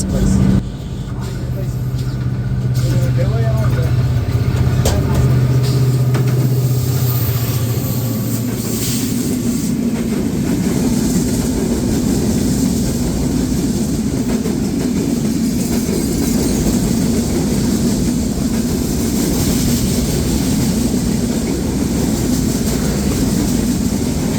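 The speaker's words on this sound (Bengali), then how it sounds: "এখন যে ট্রেনটি থ্রুপাস করে যাচ্ছে আমার পছন্দের একটি ট্রেন রাজশাহী থেকে ছেড়ে আসা ঢাকাগামী আন্তনগর ধূমকেতু এক্সপ্রেস" Dhumketu Express, a Rajshahi-to-Dhaka intercity train, thunders through Ishwardi bypass station at close range, a loud continuous roar of wheels and carriages with steady low rumble throughout, a brief horn-like tone early on.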